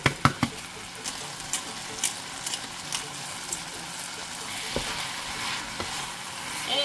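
Food fries gently in olive oil in a home kitchen pan, giving a faint, steady sizzle with scattered light crackles and a few soft knocks. No one speaks.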